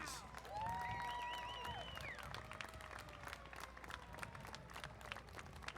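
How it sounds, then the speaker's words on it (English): Faint, distant clapping patters steadily from a crowd at an outdoor Armed Forces Day parade in Torrance, mixed with a rising and falling whistle-like tone and outdoor background noise. "Round of applause, please."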